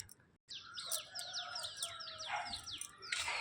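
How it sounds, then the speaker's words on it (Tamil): Sparrows chirp in the morning with a quick series of bright, sweeping chirps and a brief sharper burst near the end, heard alone against quiet background hiss. "காலையில் குருவி சத்தெல்லாம் கேட்குதா சொல்லுங்கள்?"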